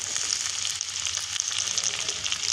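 Pink-fried onions and chopped tomato are mixed together in a hot pan for Bengali chicken ghugni, producing a steady, moderate crackling sizzle with no voices.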